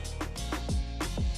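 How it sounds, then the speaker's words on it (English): KTM RC16 2022 four-cylinder 1,000 cc racing motorcycle in The Crew Motorfest, rapid upshifts with repeated rising revs and quick drops, a steady high-revving engine howl throughout. "What you're hearing is the sound of the KTM RC16 2022 version,"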